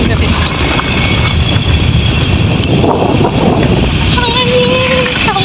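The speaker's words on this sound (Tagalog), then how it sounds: "Kusog ang hangin." Strong wind buffets the microphone outdoors in a steady, loud roar that fills the whole stretch, with faint voices and thin tonal sounds drifting through near the end.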